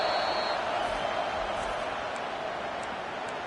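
Dense, steady crowd roar filling a college football stadium during an LSU versus Virginia Tech game on third down, a continuous wash of voices holding loud from start to finish with no distinct breaks.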